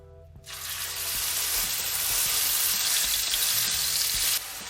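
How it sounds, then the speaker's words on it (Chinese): Minced pork hits hot oil in a wok and sizzles loudly, a steady, close frying hiss that starts abruptly and holds throughout with faint clinks underneath. "油热以后，咱们将肉末放进去。"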